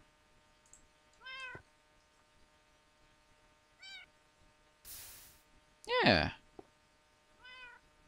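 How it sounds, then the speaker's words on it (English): Several short Minecraft cat meows spaced apart, fairly quiet, with one louder drawn-out yowl; a voice briefly speaks once. "You can hear the cats in the background."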